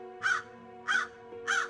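Crows in the video game Salem give three loud, harsh caws, evenly spaced about a second apart, over a steady low ambient hum.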